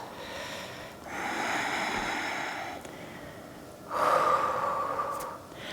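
Two deep, audible breaths during a yoga session, a long inhale or exhale followed by a pause and another strong breath, close and breathy against a quiet background.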